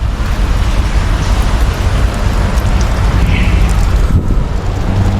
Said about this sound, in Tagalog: Kita nyo paligid mga bay, ang ulan.